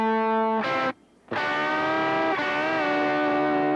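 Heavily distorted electric guitar playing a double-stop lick, sustained bent notes with a brief gap, then a ringing held phrase with vibrato.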